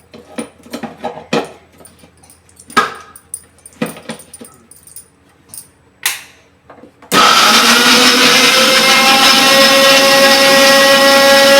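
A mixer grinder kicks on partway through and grinds food loudly and continuously to the end, after several seconds of scattered kitchen clatter and handling knocks.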